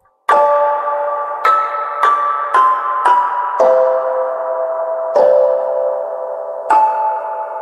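Heavy reverb washes over a sampled instrument in LMMS's Audio File Processor as eight bell-like notes play a slow melody, each tone sustaining and blending into the next, loud and alone.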